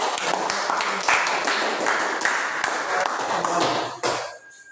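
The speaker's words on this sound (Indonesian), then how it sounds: "beri aplaus untuk" Classroom applause: a burst of steady clapping from a group of students, fairly loud and close, fading out near the end.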